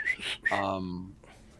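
A voice imitates a starship computer's hail whistle, a single short rising-then-steady whistled tone with a breathy onset, close and fairly loud, trailing into faint background noise.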